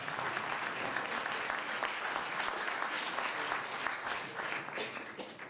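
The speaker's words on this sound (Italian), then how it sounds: "Facciamo un bel applauso al sindaco del comune di Castelcastagna, Silvio De Antonis." An audience at a local commemorative event applauds the town mayor of Castel Castagna, steady and even clapping from a sizeable crowd, moderately loud and unbroken.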